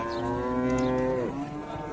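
A cow moos loudly and close at Kalampur cattle market in Dhamrai, one long sustained harmonic call that dips and ends within two seconds, with market noise behind it.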